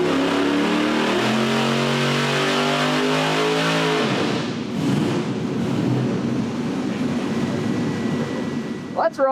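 A 383 small block Chevy V8 revs up toward 5,000 RPM, its rising harmonic note climbing steadily before breaking into a loud, rough full-power roar, with a voice briefly heard near the end.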